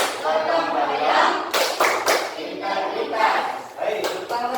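Schoolchildren doing Tepuk PPK, a rhythmic class clapping chant, sharp clap bursts in a pattern mixed with the children's chanting voices, loud and close in a classroom.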